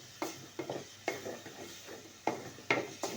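Chicken liver being stirred and sautéed in a pan, with repeated scraping stir strokes and soft sizzling in an irregular rhythm, close and moderately quiet.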